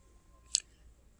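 A single sharp computer mouse click, short and fairly faint, sounds once against a quiet background while price look-up software is being used.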